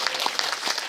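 A short burst of audience clapping fills a Korean art-song singalong gathering in Masan, a dense patter of many hands that is steady and fairly loud, with no voices over it.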